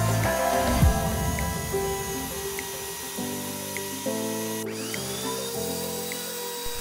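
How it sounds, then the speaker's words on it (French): A belt sander grinds along the rounded edges of a wooden cutting board, a steady whirring drone with shifting pitch as the wood is pressed and moved against the belt, loud and close with no talk. "je passe le contour de ma planche à la ponceuse à bande"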